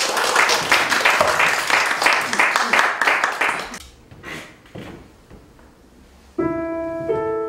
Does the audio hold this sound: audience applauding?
yes